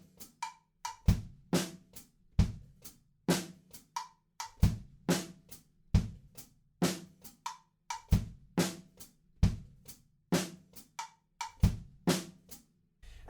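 Drum kit playing a pattern: a steady, repeating groove of hi-hats, snare and kick hits at an even tempo, fairly quiet and with no talk.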